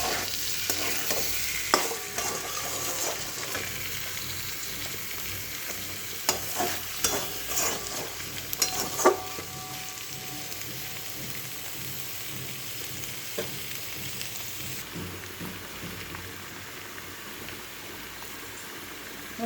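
Pointed gourd sautéing with garam masala in a pan, a steady close sizzle with intermittent stirring scrapes and clinks.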